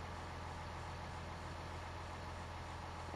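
A tractor engine in Farming Simulator 19 idles with a low, steady, even rumble, faint and continuous with no talk.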